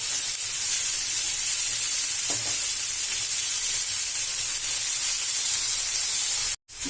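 Chopped dill leaves stirred in a pan of hot tempering oil for a dill palya, a continuous close sizzle with faint scraping, holding steady and cutting out briefly near the end.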